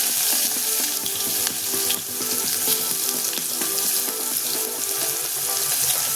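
Finely chopped ginger and garlic fry in a hot pan for a Maharashtrian thali, giving a loud, steady, close sizzle with light stirring and scraping throughout.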